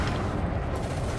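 Multi-cannons firing in the space combat game Elite Dangerous, a dense, continuous rattle of rapid gunfire that holds steady and loud for about a second with no pause.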